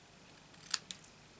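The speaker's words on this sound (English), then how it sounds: "I just take my scissors and make a cut so that I'm cutting parallel to the point" Scissors snip through paper in a few quick, crisp cuts close by, with no talking.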